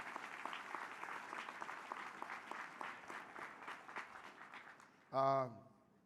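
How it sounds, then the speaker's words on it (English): Audience applause at an Urban League address plenary, a faint, dense crowd clapping that slowly thins out before a brief loud voice cuts in at the end. "Give yourselves a big round of applause, ladies and gentlemen."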